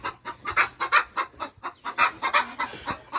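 Sussex hen clucking in an aviary, with a rapid, repeated run of loud, close clucks and cackles in an uneven rhythm.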